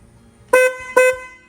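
Two short, bright honks come from the stock car horn of a Canyon pickup truck, loud and close, with a brief gap between them.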